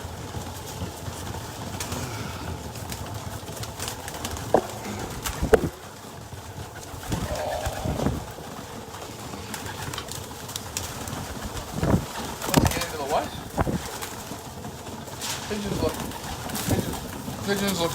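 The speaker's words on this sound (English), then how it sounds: "Pigeons look good today. They're hungry as hell." Hungry pigeons gather for feeding in a building hallway, cooing and fluttering intermittently with occasional wing flaps and scuffles, close and moderately loud, while a person talks now and then.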